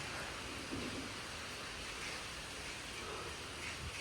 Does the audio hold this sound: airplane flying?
no